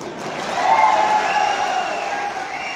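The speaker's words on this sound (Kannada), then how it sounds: "ಬರೀ ನಾಲ್ಕು ಜನ ಚಪ್ಪಾಳೆ ಹೊಡಿತಾ ಇದ್ದೀರಾ" Scattered applause from a small audience at a contractors' association gathering, a thin, steady patter of a few hands clapping for several seconds, moderately near and with no talk over it.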